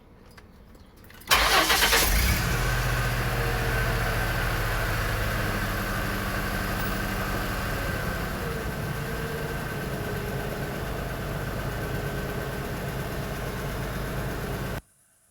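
A car engine cranks and catches after the key is turned, then settles into a steady, loud idle that runs on alone for about thirteen seconds before cutting off.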